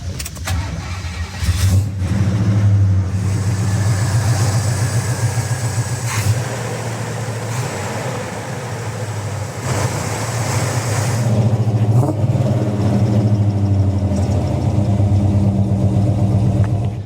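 A 1971 Buick Skylark Custom V8 cranks and fires, then settles into a loud, steady rumbling idle with a few rev blips, heard close up with no talk.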